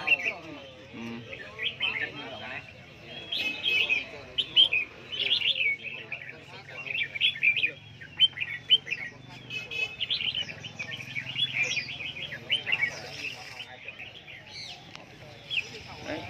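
Caged songbirds, among them hwamei and red-whiskered bulbuls, sing at a busy Vietnamese bird market, a dense overlapping mix of chirps, trills and whistles throughout, with voices murmuring faintly underneath.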